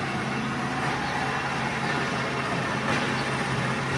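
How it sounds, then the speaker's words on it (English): Steady, loud broadband din filling a large warehouse where a standing rider forklift is being operated, constant rumble and hiss with no clear breaks or spoken voices. "Sorry for the noise, we're in a pretty loud warehouse."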